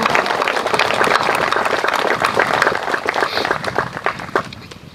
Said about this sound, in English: if you would join me in a round of applause for their effort.